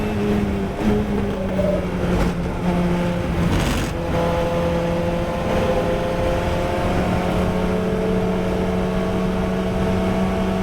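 A Formula Ford race car engine at Watkins Glen holds a steady, loud onboard drone whose pitch shifts slightly as the car runs through the corners. No one speaks over it.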